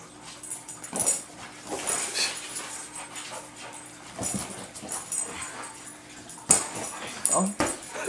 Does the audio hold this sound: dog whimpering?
yes